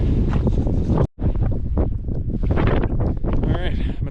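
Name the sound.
wind on a Big Bend trail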